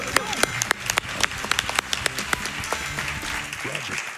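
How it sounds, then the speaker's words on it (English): An audience at a Summer Games Done Quick 2025 speedrun marathon event claps in a steady burst of applause, sharp individual claps standing out from the crowd, moderately loud and continuing for a few seconds. "Round of applause for that."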